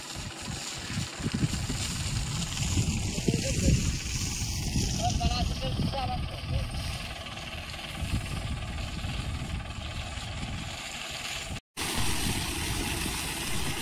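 A farm tractor runs while spraying water, its engine droning loud and constant for the full stretch, with one brief cut-out near the end before the rumble resumes.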